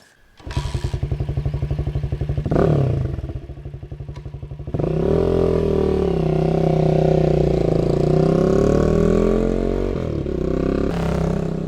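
A Janus Halcyon 250 single-cylinder motorcycle idles close by with a rapid thumping beat, then revs up into a louder, sustained engine roar with a few throttle blips.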